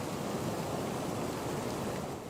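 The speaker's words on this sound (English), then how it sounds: "We need this kind of rain here." Heavy rain pours steadily in a dense, even hiss, close and continuous, with no voices.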